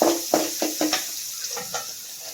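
Crushed garlic dropped into hot oil in a pan already holding fried spices, several quick scraping stirs over a soft sizzle, the strokes loud at first and fading.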